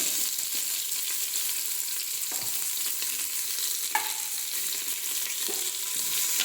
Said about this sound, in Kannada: ಈರುಳ್ಳಿ ಚೆನ್ನಾಗಿ ಕೆಂಪಾಗೋ ತನಕ ಫ್ರೈ ಮಾಡ್ಕೊಳ್ಳುವ.